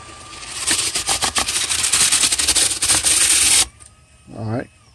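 A power drill spins a cleaning brush inside a dryer vent duct, a loud steady whirring and scraping for several seconds that stops abruptly, followed by a brief low voice.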